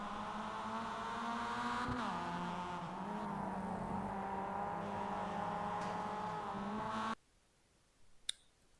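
A Mazda MX5 race car in a racing video game at Summit Point, its engine droning and shifting pitch through a crash replay before cutting to near silence with a single faint click.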